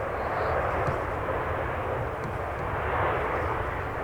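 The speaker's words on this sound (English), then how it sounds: "we have touchdown now, and that Ryanair will slow down." A Ryanair airliner landing at Manchester Airport, a steady broad roar of engine and rushing air at moderate distance, constant and unbroken.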